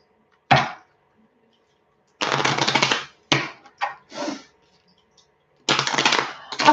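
Several short bursts of riffling cards, each a quick rapid flutter lasting about a second, separated by quiet pauses.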